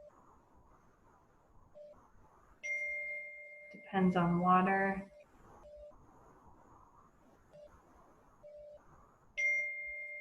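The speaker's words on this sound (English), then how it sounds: "Oops, my phone." A phone notification chime sounds as two-tone electronic dings, first a sustained tone, then again near the end, clear and moderately loud, with a person talking in between.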